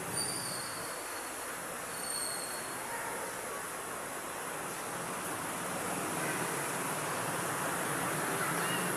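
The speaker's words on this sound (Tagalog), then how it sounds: "Ang lakas ng ulan." Heavy rain pours down in a continuous, dense hiss that holds even and fairly loud for the whole stretch, with no talking.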